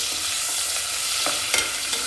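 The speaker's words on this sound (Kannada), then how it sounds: "ಇದು ಸ್ವಲ್ಪ ಚೆನ್ನಾಗಿ ಫ್ರೈ ಆಗಲಿ." Chopped onions fry in oil while being stirred in a pan for tomato bath, a steady close sizzle broken by a few scraping strokes of the spoon, with no talk.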